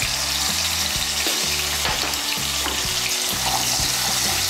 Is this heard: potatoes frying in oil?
yes